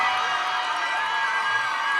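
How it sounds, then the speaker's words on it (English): Pageant audience applauding the top five Miss Universe Jamaica 2024 finalists, a steady, dense wash of clapping and crowd noise filling the whole stretch without a break. "let's keep the applause going for top 5"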